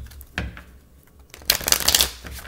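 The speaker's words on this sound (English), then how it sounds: "Let's do one more shuffle." Tarot cards being shuffled by hand: a brief riffle near the start, then a louder, dense burst of rapid flapping and clicking card sounds in the second half, close to the microphone, with no talking.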